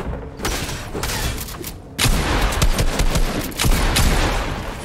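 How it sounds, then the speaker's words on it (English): Rapid gunshots from the Fortnite video game in a tournament match, loud bursts of fire in quick succession with a sharp break near the middle before the shooting resumes, heard alone without talk. "Gotta hit those shots, Nick."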